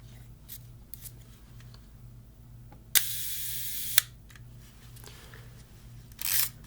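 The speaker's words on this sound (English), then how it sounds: "Doing some long shutter exposures at really low ISO." A 35mm film camera shutter clicks open for a long exposure and snaps shut about a second later, two sharp, close clicks over a quiet low hum and faint rustling.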